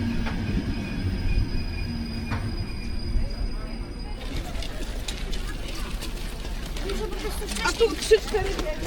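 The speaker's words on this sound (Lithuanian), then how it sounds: "Pravažiuojame pagrindinę geležinkelio stotį, traukinys joje nesustoja." Baltic Express passenger train rolling through a main railway station without stopping, heard from inside as a steady rumble with wheel clatter and faint squeals, mixed with background chatter.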